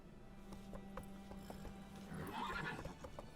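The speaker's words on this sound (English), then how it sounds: "Bueno, vamos a coger el caballo, mejor que un viaje rápido." In The Witcher 3 video game, a horse neighs faintly among soft clip-clop hoof steps and gear-like tack jingles, with a low steady hum beneath.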